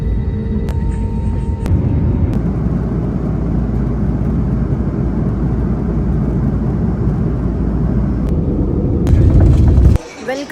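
A passenger airliner taxis onto the runway, its loud, steady engine roar droning for about ten seconds before cutting off abruptly near the end, heard from inside the cabin.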